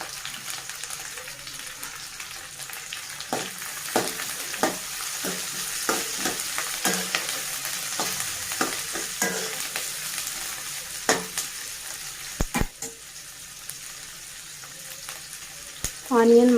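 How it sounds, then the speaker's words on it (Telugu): Onions frying in a pan with dried red chillies, green chillies and curry leaves, a steady close sizzle broken by repeated stirring scrapes, with a brief faint voice near the end. "ఆనియన్ మగ్గనివ్వాలండి."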